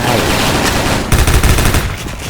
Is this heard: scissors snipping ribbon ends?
no